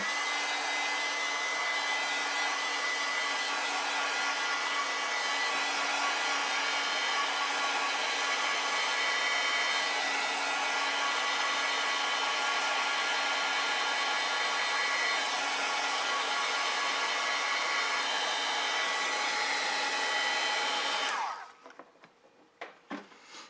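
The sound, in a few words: hair dryer drying a watercolor painting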